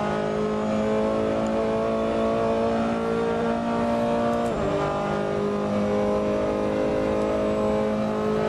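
A race car engine in the Assetto Corsa racing game howls at a steady high pitch, held near the rev limiter with a brief dip midway, loud and continuous without talk.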